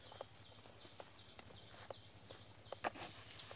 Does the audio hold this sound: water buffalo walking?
yes